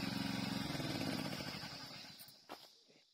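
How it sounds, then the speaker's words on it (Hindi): A tractor working a farm field runs with a steady low engine chug that gradually fades into the distance, followed by a couple of faint knocks and rustles close by. "और हनी के पापा जोत रहे थे ट्रैक्टर"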